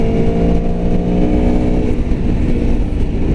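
A 2017 Aprilia Tuono V4 1100 motorcycle being ridden under throttle, its V4 engine giving a loud, steady, close drone with a slight rise in pitch, no voices over it.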